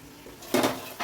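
Tomatoes and oil being sautéed for chicken dum biryani in a pan, heard as a few close scraping and clattering stirs of the utensil against the pan, with faint sizzling in between and no talk.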